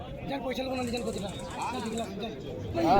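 Pigeons cooing at a busy pigeon market, soft throaty coos partly buried under nearby voices talking over them.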